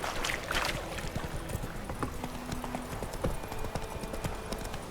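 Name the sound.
horse galloping hooves in video game The Witcher 3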